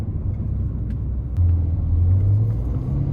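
Heard from the cabin, a 2020 Ferrari Portofino engine rumbles steadily as the car is driven, a low, continuous drone that swells slightly partway through, with faint clicks and no speech.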